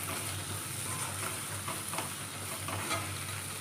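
Vegetables fry in a small amount of oil in a pan as they are stirred, producing a constant close sizzle with soft scraping strokes and a low hum underneath.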